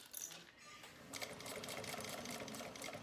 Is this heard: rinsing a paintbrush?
no